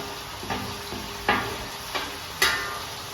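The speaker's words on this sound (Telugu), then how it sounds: "టమాటాలు వేసేసి కలపాలి." Chopped tomatoes frying in a pan for a chicken masala, with a soft sizzle and a few scraping, clattering strokes of a spoon being stirred, close and fairly quiet with no talking.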